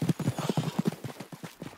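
Tennessee Walker horse hooves in Red Dead Online, a steady run of clip-clop footfalls at an even walking rhythm, fairly close and moderately loud, with no talk.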